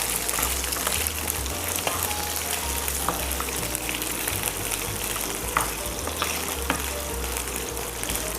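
Small onions frying in a pan with curry leaves for Karaikudi-style Chettinad chicken, giving a steady, close, dense sizzle with occasional crackles and stirring scrapes throughout, no talking.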